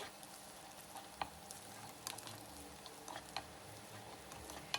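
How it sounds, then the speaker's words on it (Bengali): Onions frying in oil with cinnamon and dried chilies while a liver curry is being prepared, a quiet steady sizzle broken by occasional scraping and clinking as the pan is stirred. "পেঁয়াজটা নাড়তে হবে লাল না হওয়া পর্যন্ত"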